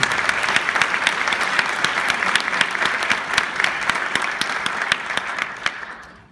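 Sustained audience applause after a high school jazz ensemble's performance at an evening of jazz, many hands clapping in a dense, even patter that holds steady and then tapers off at the end.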